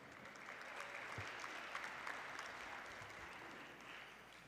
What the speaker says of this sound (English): Let's give one more round of applause to Lambton's 25-26 award winners.